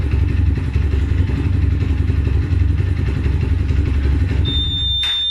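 A motorcycle engine idles steadily with a close, clattering chug, then cuts out abruptly after a thin electronic tone from an anti-theft device, leaving a brief burst of noise and silence.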